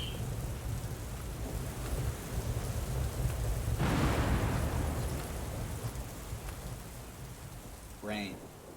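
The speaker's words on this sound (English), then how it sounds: "Rain, thunder." Rain and thunder from the opening scene of the video game FURI, a steady wash of rain with a rumbling thunder swell in the middle and a sharper crack near the end, under a low music bed.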